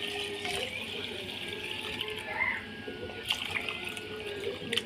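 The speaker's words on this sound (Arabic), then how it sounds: "احط بقى اللبن 3 كوبايات ونص قد الرز" Cow's milk poured from a cup into a tray of rice, a faint steady trickling and splashing that runs throughout, with a few light clinks.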